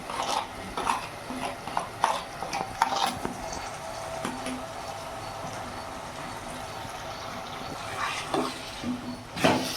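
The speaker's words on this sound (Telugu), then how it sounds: "బాగా కలుపుకోవాలి." Salt and turmeric being stirred into a mushroom and cashew curry with tomatoes in a pan, giving scattered scraping and clinking strokes of a spoon over a faint sizzle, close and moderately quiet.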